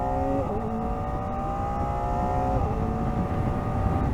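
A Kawasaki Ninja ZX-4RR, a small-displacement four-cylinder motorcycle with a quick shifter, accelerates hard. Its high-pitched engine note climbs steadily through the revs with a brief shift dip, loud and close over wind noise.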